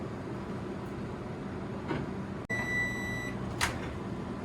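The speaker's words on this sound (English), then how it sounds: "I'm just going to do one more round in the microwave." A microwave oven heating chocolate hums steadily, with a click midway and a few beeps, faint and close, no talking.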